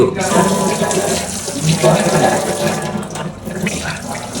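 Tap water runs steadily into a kitchen sink as hands are washed, a close, loud continuous splashing rush with a faint voice underneath.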